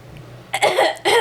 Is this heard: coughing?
yes